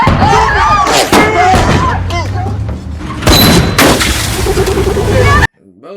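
Gunfire erupts in a mafia film scene about a betrayed accountant: loud, rapid shots and booming blasts in dense bursts, mixed with shouting voices, before cutting off abruptly.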